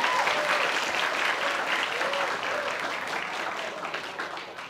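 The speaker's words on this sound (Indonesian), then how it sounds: "tepuk tangan dulu untuk semua" A large gathered audience applauds in a steady, full wash of clapping that stays loud for several seconds before tapering slightly at the end.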